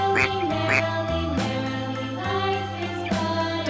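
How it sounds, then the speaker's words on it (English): A duck gives two quick nasal quacks near the start of a loud, bright passage of background music that carries on throughout; no voices are heard. "Common animals. Duck."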